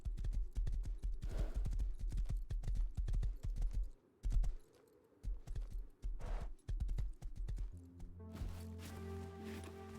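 Horse hooves clip-clop in the Rust video game as a rider heads toward a bridge, a brisk, regular run of sharp hoofbeats that pauses briefly twice before a sustained tonal game sound takes over near the end.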